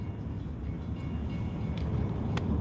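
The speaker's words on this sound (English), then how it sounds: "here comes the train" A train passes in New York City with a steady, loud rumble and rolling noise that fills the scene, a few faint metallic squeaks rising near the end.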